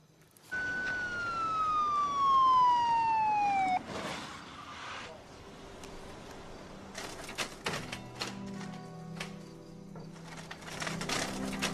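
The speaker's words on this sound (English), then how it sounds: "Ambulance is en route." An ambulance siren sounds in the police drama Blue Heelers, first a loud falling wail that drops away, then further siren tones and clatter further back.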